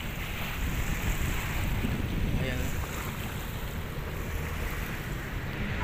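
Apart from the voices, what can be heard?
waves at Manila Bay during high tide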